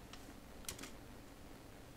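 Close, quiet keystrokes on a computer keyboard, a few brief clicks in quick succession against a faint background.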